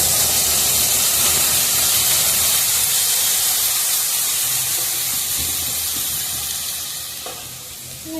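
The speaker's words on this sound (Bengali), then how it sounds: "দুধটা মোটামুটি দিয়েছি।" Milk poured into a hot pan of lightly fried pasta for white sauce pasta sets off loud, steady sizzling and bubbling that dies down slightly toward the end.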